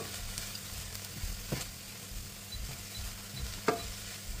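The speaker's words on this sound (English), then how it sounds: "Just keep stirring." Rice seasoning with salt and black pepper sizzles quietly in a pan while being stirred, a soft steady fry broken by a few scraping spoon strokes, close and with no voices.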